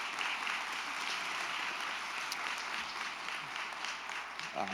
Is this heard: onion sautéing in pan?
no